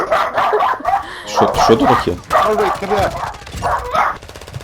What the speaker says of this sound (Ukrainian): Да то пес гавкав в тебе?